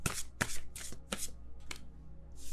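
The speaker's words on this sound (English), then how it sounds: "Let me see if I could shuffle these." Tarot cards are shuffled close up in a series of four or five quick riffling bursts, then a pause and one more soft shuffle, with no talking.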